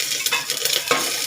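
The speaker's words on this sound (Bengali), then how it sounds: "এর মধ্যেই দিয়ে দেবো গ্রেট করে রাখা আদাটা, দিয়ে এটা একটু নেড়ে নেবো।" Grated ginger frying in hot oil and being stirred, a short burst of bright close sizzling with quick scraping strokes of a spoon.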